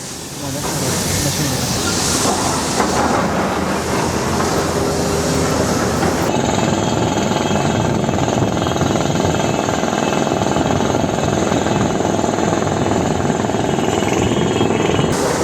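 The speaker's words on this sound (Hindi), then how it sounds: "ये वाली मशीन है, ये जो चक्का घूम रहा है गोल गोल, इसमें आप देखेंगे ब्लेड लगी है, 100 ब्लेड, यानी कि आरी" A large circular saw machine fitted with about a hundred blades cutting granite in a Rajasthan quarry, running as a loud, continuous grinding roar with hiss for the whole stretch.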